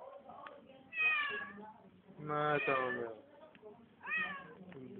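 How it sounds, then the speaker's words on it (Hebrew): A cat meows three times in drawn-out, rising and falling calls, close and fairly loud, while a person talks softly to it between and under the meows. "חתול אתה, חתול חוצפן"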